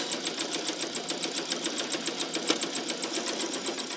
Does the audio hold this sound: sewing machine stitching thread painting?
yes